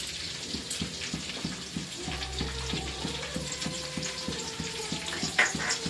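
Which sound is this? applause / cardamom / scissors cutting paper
cardamom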